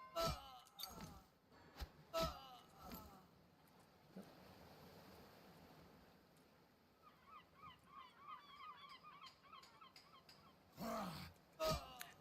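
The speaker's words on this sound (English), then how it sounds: "I would guess that's a seagull sound." Seagull calls from the video game Tibia, a run of short high squawking cries arriving in a dense cluster midway through, set against a soft ambient wash, with louder sharp clicks at the start and end.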